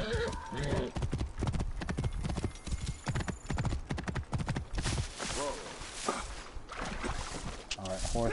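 Horse hooves clip-clop rapidly in the video game Assassin's Creed Origins, joined by a neigh and snorts, loud and close, with game music and speech mixed in.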